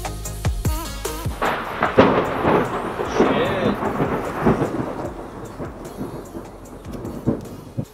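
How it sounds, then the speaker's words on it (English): A thunderstorm in Houston brings a sharp, close crack of thunder that rolls off into a long rumble, with steady rain falling throughout. "now it's gonna be a thunderstorm"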